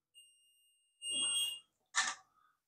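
A multimeter set to continuity beeps as its probes touch the two coil leads on one side of a toroid inside a smart USB charging station; a steady tone sounds, then two short electronic bursts follow, close and alone without speech.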